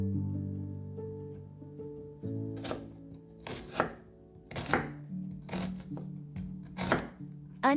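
A knife chops an onion on a board in a series of crisp, close cuts roughly once a second, over soft steady background music.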